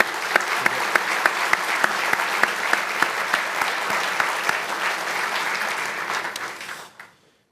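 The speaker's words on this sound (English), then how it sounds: "Give a round of applause for those guys too" Steady applause fills a scholar-athlete awards banquet, dense clapping with a few sharper claps standing out, holding loud and even before fading away in the last second.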